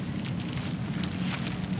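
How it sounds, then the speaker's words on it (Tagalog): Steady rain falls outdoors at a fishing spot during a tilapia fishing trip, making an even, close hiss with scattered drop patters and no talk. "Kahit umuulan, laban na to."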